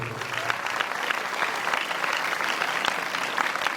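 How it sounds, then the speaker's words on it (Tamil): Applause from a church congregation thanking participants at a closing blessing service, a dense sustained clapping from many hands, fairly close and steady throughout. "நாம் கைதட்டி அவர்களுக்கு பாராட்டுகளை தெரிவிப்போம்"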